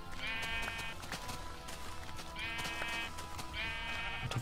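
Several sheep bleat in the video game Minecraft, three drawn-out wavering bleats spaced about a second apart over a busy, constant game backdrop.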